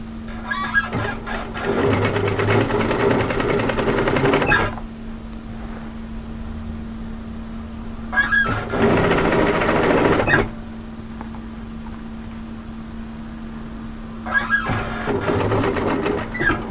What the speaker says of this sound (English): And now we're going to stitch down to the other side.